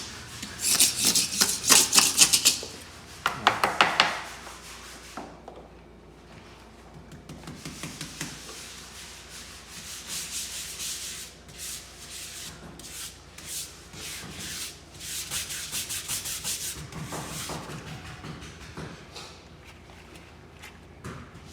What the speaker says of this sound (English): Some of it's so thick, you gotta use your scraper.